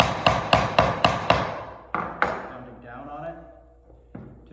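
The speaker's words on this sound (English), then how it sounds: "You can do that by pounding down." Hammer pounding a dowel into a wooden toolbox: six quick ringing blows in a row, a short pause, two more strikes, then a single faint tap, loud and close.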